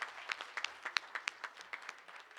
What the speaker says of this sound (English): how about another round of applause for our amazing and talented students?